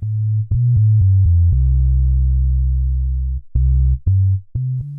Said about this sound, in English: You should now have a more edgy but reasonably smooth bass sound.